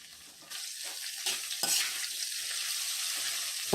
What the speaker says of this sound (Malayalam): ഇനി ഇതിലേക്ക് നമുക്ക് നാല് മീഡിയം സൈസ് സവാള സ്ലൈസ് ചെയ്തത് ഇട്ട് കൊടുക്കാം ഒപ്പം തന്നെ ഒരു പച്ചമുളക് ചെറുതായിട്ട് കട്ട് ചെയ്തതും അര ടീസ്പൂൺ ഉപ്പും കൂടി ചേർത്ത് വഴറ്റി തുടങ്ങാം